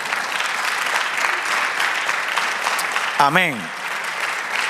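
A church congregation applauds with a steady, fairly loud wash of clapping; partway through a voice speaks briefly over the applause.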